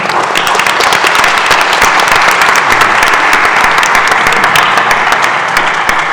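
An audience at a port administration building event applauds its panelists, with loud, dense clapping that carries on steadily without a break.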